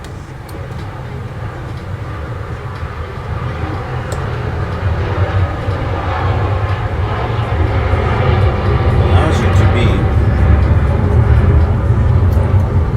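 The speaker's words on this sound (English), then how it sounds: "I'll wait for that airplane to go." A jet airplane passing overhead outdoors, a broad steady roar that slowly builds in loudness across the whole stretch, heard under a man's brief speech.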